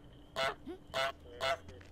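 Three loud goose honks from Untitled Goose Game, evenly spaced about half a second apart, close and clear over a quiet game background.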